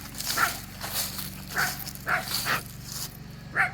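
A dog barks and yelps in short excited bursts, five or six clipped woofs spaced unevenly at close range, with faint footsteps and background hum.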